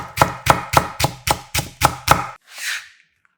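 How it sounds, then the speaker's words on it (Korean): A knife chopping on a cutting board while whole garlic cloves are minced and green onion is thinly sliced: eight crisp, evenly spaced knocks close up, followed by a brief softer scrape. "통마늘 2개 다져서 알싸함을 준비하고 대파 1개 쫑쫑 얇게 썰어서"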